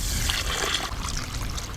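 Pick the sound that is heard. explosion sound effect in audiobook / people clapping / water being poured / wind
water being poured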